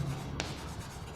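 A pen writing a ratio of triangle side lengths during a Class 9 maths lesson, heard as a steady faint scratching across the whole moment, with one brief sharper tap partway through.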